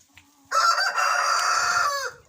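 A rooster in a farmyard coop lets out one loud, drawn-out crow lasting about a second and a half, close by, after a brief soft cluck.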